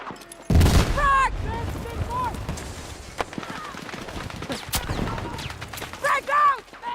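A grenade blast booms sharply in a video game, followed by scattered gunfire cracks and short bursts, with voices calling out between the shots.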